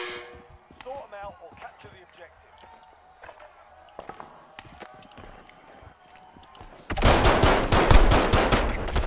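Rapid bursts of automatic gunfire erupt in a Call of Duty Warzone match, a loud dense volley filling the last couple of seconds after quieter scattered game sounds and clicks, with voices talking earlier.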